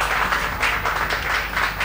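A crowd applauds steadily at a youth competition's elimination round, a dense, even wash of many hands clapping with slight swells, moderately loud and with no voices over it.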